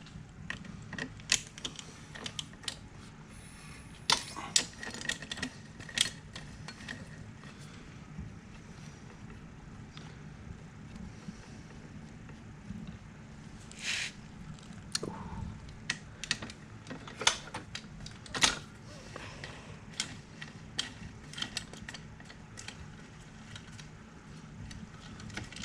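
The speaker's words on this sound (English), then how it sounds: "I'm going to take these little screws off." Small screws being taken off the clutch cover of a Kawasaki KLX110L dirt bike: faint, scattered metallic ticks and light clicks from a hand tool against a quiet, low background hum.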